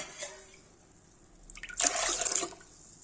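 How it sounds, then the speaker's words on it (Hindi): Water poured onto washed arhar dal in a cooking pot: a few faint drips first, then a short, steady splashing pour that fills in and stops after about a second. "गाइस देखिए सब पानी डालेंगे"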